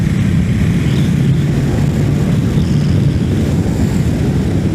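Steady, loud engine drone of a Ducati Multistrada 1200S Pikes Peak motorcycle being ridden, with constant low rumble and wind noise, the motor running continuously at speed without pause.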